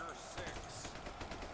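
Rapid gunfire from a UEBS battle simulator fight, a dense steady crackle of overlapping shots filling the whole stretch, with a voice talking over it.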